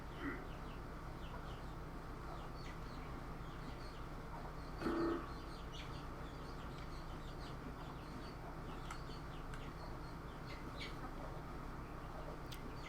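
Chickens making assorted low clucking, cooing calls with scattered chirps, faint and somewhat distant against a steady background hum, one slightly louder burst midway, no clear talking.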